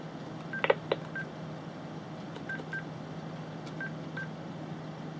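A telephone connected to a Speedport W900 V router dials 51, giving a few short keypad tones early and later, faint against a steady low hum.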